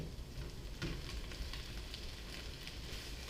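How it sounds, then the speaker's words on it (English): Italian chicken sausage sizzling in a pan, a continuous soft crackle and hiss of frying close by, steady and fairly quiet with no voices. "I've got all of this sausage ready to go into the pan."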